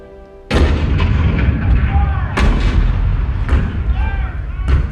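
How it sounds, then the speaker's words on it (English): Cannon fire at Fort Sumter in the Hall of Presidents show, a sudden heavy boom followed by several more rumbling blasts and echoing thuds at irregular intervals, loud and close. "The cannon spoke for war, bitter, violent, and devastating."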